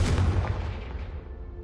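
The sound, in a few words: Confringo explosive spell blast in video game Hogwarts Legacy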